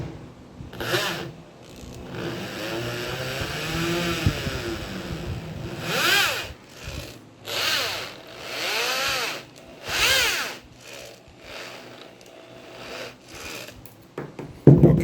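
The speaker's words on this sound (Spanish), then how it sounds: "encender el taladro para que trence" An electric drill twisting wire whirs in several short bursts, its pitch rising and falling as it spins up and slows, with rasping scrapes and handling noise between.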